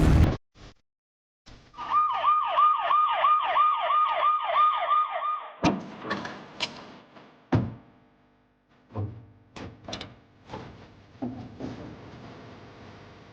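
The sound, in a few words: ambulance siren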